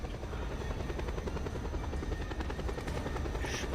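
A helicopter in Just Cause 2 thrums loudly and continuously with fast, even rotor chop, close by and filling the whole stretch without pause.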